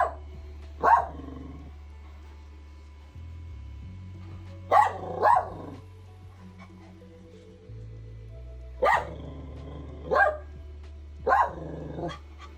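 A dog barks in short bursts, about eight loud barks in pairs and singles over a steady low hum, likely from a large 3D printer (Kobra Max) running nearby.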